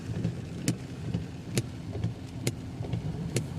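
A car driving through a flooded road in heavy rain near St Elizabeth, with a steady engine rumble, a constant wash of rain and water, and sharp thuds or splashes at a regular rhythm.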